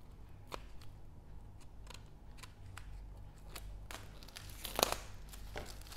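Plastic packaging of a Wiha screwdriver kit being opened, with scattered soft crinkles and snips at close range, then a sharper crackle of tearing plastic near the end.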